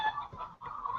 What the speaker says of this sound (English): You have roosters outside, Jocelyn?